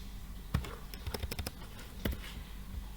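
A formula is typed on a computer keyboard: scattered soft key taps and clicks in irregular clusters, close and fairly quiet, with no speech.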